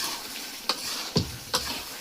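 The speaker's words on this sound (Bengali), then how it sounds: "এখন কষাতে হবে অনেক" Meat curry being stirred and fried with meat masala in a pan, three distinct scraping stirs over a steady sizzle, close and fairly loud with no talking.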